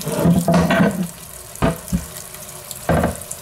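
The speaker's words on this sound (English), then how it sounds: "Let's let water run in here." Tap water runs into a plastic measuring cup, a steady splashing hiss broken by a few louder bursts and clunks as the stream shifts.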